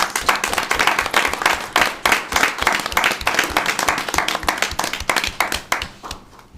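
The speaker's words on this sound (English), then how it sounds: "please give her a round of applause" An audience at a commissioners' board meeting claps in a steady, dense round of applause lasting several seconds, close and fairly loud, then tapering off at the end.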